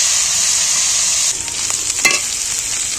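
Potatoes and beans fry in a hot wok while being stirred: a steady, close sizzle runs throughout, with scraping stir strokes becoming clearer in the second half.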